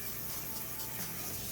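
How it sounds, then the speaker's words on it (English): Cooking oil spray hissing steadily onto a pan for stir fry, a close, continuous aerosol burst with no talking. "So now I'm just gonna spray the pan"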